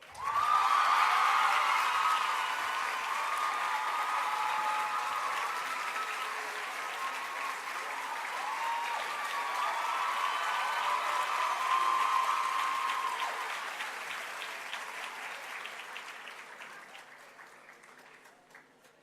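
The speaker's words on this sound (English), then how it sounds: "And give him another round of applause" A school senior prizegiving crowd applauds an award winner, a steady wash of clapping with a few whoops that holds strong for about fifteen seconds before fading away.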